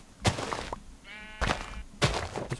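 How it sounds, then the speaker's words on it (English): Minecraft sheep bleat three times in quick succession, each a short wavering cry with sharp onsets, close and clear against a quiet game background. "And some sheep."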